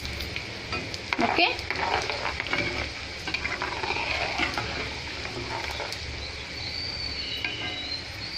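Asafoetida drops into hot oil for a tomato pickle tempering, giving a continuous close sizzle with a louder crackling burst early on. A voice briefly speaks over the frying.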